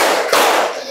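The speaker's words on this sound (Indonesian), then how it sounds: "tepuk tangan buat kita semua" A short burst of hand clapping from a group in a classroom, loud and close, lasting under a second with no talking.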